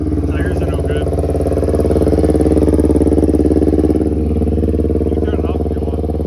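A motorcycle engine idles steadily close by, a constant low rumble with faint clatter throughout, and a few brief voices talk over it.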